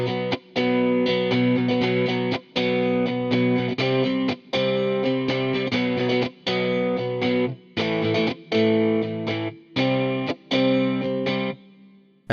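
A UJAM Sparkle 2 virtual guitarist preset plays a chorused, effects-laden electric guitar pattern in rhythmic, chopped phrases with brief gaps between them, loud and steady throughout with no talking.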